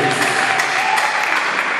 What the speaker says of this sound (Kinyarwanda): Mwongere mukomere Imana amashyi. Clap for the Lord, please.